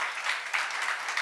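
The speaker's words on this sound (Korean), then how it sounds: "박수 한번 쳐봐요." Church congregation clapping during a seminar, a short, fairly faint burst of steady applause with no voices.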